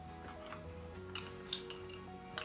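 Fish sauce and brown sugar being stirred into a vegan Thai coconut soup, a utensil lightly clinking against the pot in a few faint, scattered taps over a low background hum.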